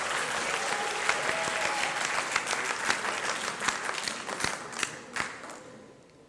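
Audience applause at a motivational youth leadership talk, starting as a dense wash of clapping that thins into scattered individual claps and dies away at the end.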